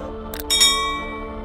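Short bell-like chime used as a notification sound effect in a chess tutorial, sounding once with a bright metallic ring that lingers and fades over about a second.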